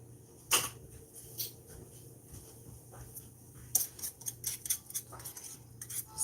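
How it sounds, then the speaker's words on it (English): A wire whisk beats old-fashioned blackberry pineapple cobbler batter in a bowl, with scattered light metallic clinks and scraping taps in uneven quick bursts, close and fairly quiet. "I'm going to get me a wire whisk"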